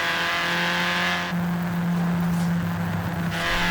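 A 1981 Ford Fiesta XR2 engine in the racing game Forza Horizon 3, a steady droning engine tone that shifts pitch partway through as if changing gear, held at fairly constant loudness.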